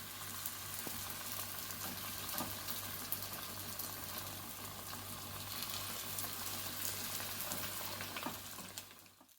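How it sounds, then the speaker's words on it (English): Paneer spring rolls fry in hot oil with a steady bubbling sizzle and fine crackling, fairly faint and continuous before fading at the end. "And now I'm going to start frying my spring rolls."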